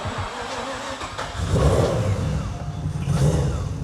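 A single-turbo three-rotor rotary engine car revs up nearby with a deep, muffled, swelling engine roar that rises in two pushes over a low, rough idle.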